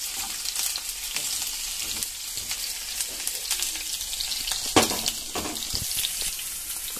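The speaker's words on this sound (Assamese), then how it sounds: "গৰম গৰম তেলৰ পিঁয়াজ দি দিলোঁ এতিয়া ভাজি আছোঁ" Onions frying in hot oil in a home kitchen, with a steady close sizzle and crackle throughout and a few sharper spatters and pops near the middle, heard alone without voices.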